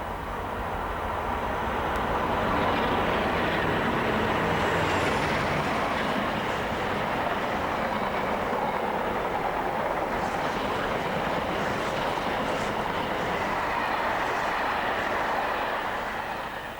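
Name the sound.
Trafford Park to Ipswich Freightliner freight train passing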